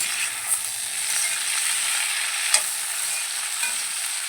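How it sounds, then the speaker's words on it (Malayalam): Shallots and coconut frying together in a pan for a chicken dish make a loud, continuous close hiss, with a few isolated clinks or scrapes cutting through and no voices. "ഈ തേങ്ങ മൂക്കണതിനൊപ്പം തന്നെ ചെറിയ ഉള്ളിയും കൂടി നമുക്ക് ഇട്ട് കൊടുക്കാം അത് രണ്ടും കൂടെ ഒപ്പം മൂക്കുന്നത്"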